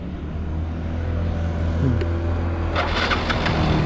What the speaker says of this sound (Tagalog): Ganyan lang po pagsusi ng motor ko.